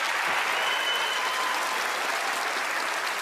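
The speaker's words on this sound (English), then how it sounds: "let's give them a warm round of applause as they join me up onto the stage, Misters Penn and Teller" Warm applause from a television studio audience at a magic show as performers come up onto the stage, a dense, even wash of clapping that stays loud throughout.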